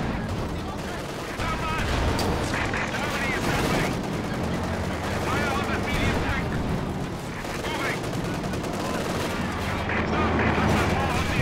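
Gunfire in Company of Heroes 2 crackles in dense, overlapping bursts with rumbling booms underneath, loud and continuous throughout.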